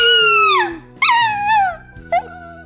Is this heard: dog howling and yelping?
yes